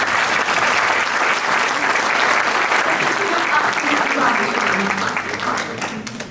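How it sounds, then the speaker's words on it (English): An audience applauds steadily at a sari demonstration after a model takes a spin, dense clapping holding for about six seconds before tapering slightly at the end. "Please, a round of applause for Francis."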